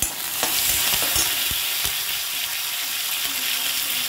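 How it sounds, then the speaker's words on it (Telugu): Green chillies and curry leaves fry in hot oil with a loud, continuous sizzle, broken by a few stirring scrapes and knocks in a pan. "వేగాక ఇందులో గ్రీన్ చిల్లీ కర్రీ లీవ్స్ వేసుకోవాలి."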